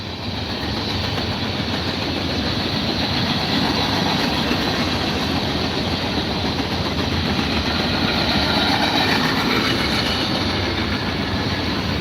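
A freight train rumbles past close by, a loud continuous roar of rolling wheels and clattering cars that holds steady throughout.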